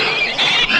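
A monster cat from the 1987 film Uninvited lets out a loud, shrill squealing scream, a short harsh sustained cry with wavering pitch and no talk over it.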